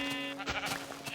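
A single sheep in the game Minecraft lets out a short, wavering bleat, clear and close against a quiet background.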